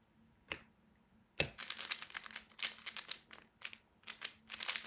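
Typing on a Keychron K8 mechanical keyboard: one isolated click, then a quick run of quiet, close-up keystroke clatter in uneven bursts with short pauses.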